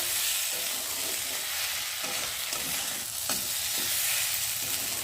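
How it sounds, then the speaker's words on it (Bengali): Dalia (broken wheat) stirred and fried with spices in a pan: a steady, close sizzle with repeated scraping strokes of the spoon throughout, and no talking. "ভালো করে নাড়বো, মশলার সাথে একটু ভালো করে ভেজে নেবো"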